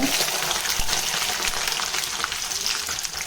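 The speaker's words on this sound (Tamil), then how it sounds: "கடுகு பொரிஞ்சதுமே நம்ம எடுத்து வச்சிருக்கிற பூண்டு" Garlic hits hot oil in a pan just after mustard seeds have popped, making a steady, close hiss and crackle of frying that holds at an even level throughout.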